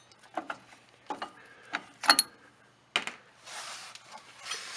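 A wrench loosens 18 millimeter bolts, giving a series of separate close metallic clicks and ratcheting knocks at irregular intervals, followed by a longer rasping scrape near the end.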